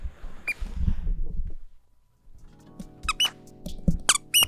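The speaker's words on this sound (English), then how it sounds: "now you're squeaking it. Just squeak it over here." A squeaky toy squeezed near a dog gives several sharp, bright squeaks in quick bursts, following a stretch of low rustling and a short pause.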